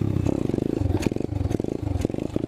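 An Apollo 125cc dirt bike engine revs through a wheelie, a close, steady rumble with pulsing surges of throttle and a little clatter running throughout.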